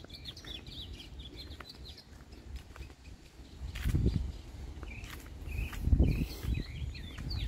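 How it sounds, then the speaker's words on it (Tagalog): Many birds chirp and call in quick, scattered bursts outdoors on a coastal walk at Treasure Island in Laguna Beach, California, over a soft rumble of wind and movement, with no talking. "Dami mga ibon."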